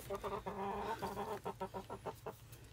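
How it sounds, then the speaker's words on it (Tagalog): Farm chickens cluck close by in a rapid, uneven run of short calls over a low background murmur, with no clear talk. "Hello chicken!"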